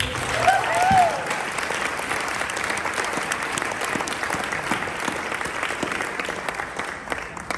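Gala audience at a chamber of commerce event applauding an honoree, sustained crowd clapping with a brief voice near the start, continuing evenly and steadily to the end.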